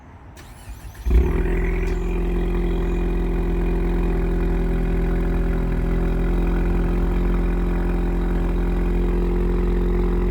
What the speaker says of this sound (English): In order to be able to remote start the vehicle, what we're going to do is press this lock button once and the circle button twice.